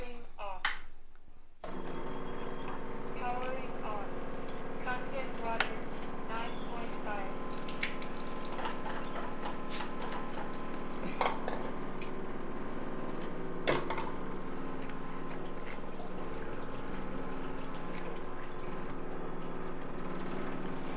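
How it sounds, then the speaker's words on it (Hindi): Ionized Kangen water from a device, poured into glasses during a demonstration: continuous running and trickling water with occasional glassy clinks and pings, fairly quiet and close. "तो इसको मैं इन ग्लासेस में फिल कर देती हूँ साथ साथ।"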